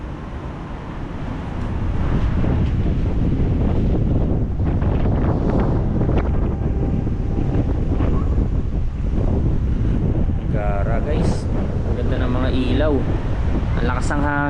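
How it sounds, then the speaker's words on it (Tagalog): Strong wind gusts roar across the microphone from an eighth-floor hotel room at night, a heavy, rumbling buffet that swells after the first moments and stays loud, with people talking over it toward the end. "Sobrang lakas ng hangin."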